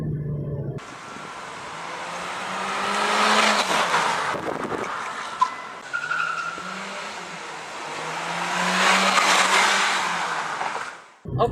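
A 2021 Volkswagen Lamando in manual mode accelerates hard, its engine surging loud and near in two long rising pulls with a short lull between them, with hints of tyre noise.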